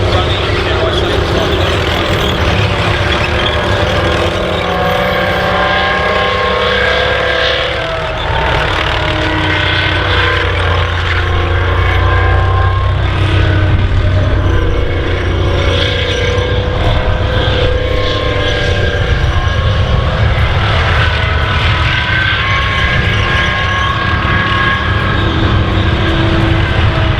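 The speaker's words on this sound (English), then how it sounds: "you can hear the L60, the British Leyland engine running" A tank's British Leyland L60 engine drones steadily and loudly throughout, a deep continuous rumble with mechanical clatter, and a voice talks over it at times.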